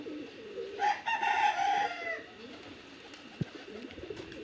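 Pigeons crowd around to feed, one drawn-out bird call rising clearly above a quiet background of soft scattered noises and a single sharp knock.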